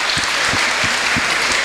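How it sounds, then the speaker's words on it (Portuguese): A church congregation claps in applause at an anniversary celebration, a brief dense burst of clapping with a few louder thumps standing out near the front. "Uma salva de palmas pro povo do Campo Grande."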